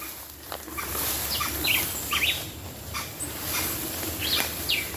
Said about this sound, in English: that bird that is making that noise